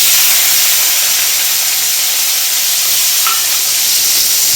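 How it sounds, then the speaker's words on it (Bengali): Shrimp frying in hot oil with a chili and five-spice seasoning in a pan, a loud, steady, close-up sizzle that holds throughout with no voices. "তেল গরম হয়ে গেছে ফোড়নে একটা লঙ্কা দিয়ে দিচ্ছি পাঁচ ফোড়ন দিয়ে দিচ্ছি এবার চিংড়ি মাছগুলো দিয়ে দিলাম"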